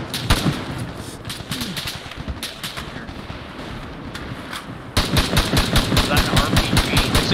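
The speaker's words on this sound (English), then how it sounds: "I'm shooting him" Rapid bursts of automatic gunfire from a military shooter video game crackle in dense strings of sharp shots, briefly pausing before a louder sustained volley, with voices talking under the firing.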